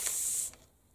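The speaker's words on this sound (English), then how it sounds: "I spray it with a mixture of vinegar and water." Half-second spray-bottle hiss misting paper pages with a vinegar and water mixture for eco dyeing, a single close burst of bright spray that cuts off quickly into quiet.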